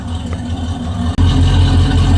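A drift truck engine sits at hot idle while its oil warms up, a steady loud low rumble with a brief dip before settling into an even, throbbing drone.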